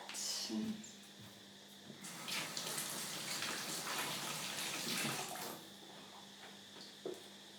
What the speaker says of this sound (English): I will just rinse my hand